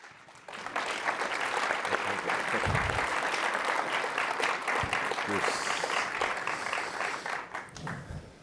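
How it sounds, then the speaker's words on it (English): An audience at a University of Chicago talk welcomes its guests with sustained applause: dense, steady clapping that starts abruptly, holds for about eight seconds, then thins out near the end. "So please help me, with a round of applause, welcome our guests"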